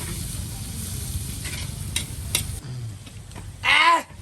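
Garlic and ginger sizzle in a pan while being stirred, a steady frying crackle with scraping strokes and a louder stir toward the end, close up and with no one speaking.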